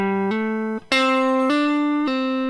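A guitar plays the first bar of a minor pentatonic lick, a short series of distinct, sustained single notes stepping up and down, close and clear, with a brief gap between phrases and no talking.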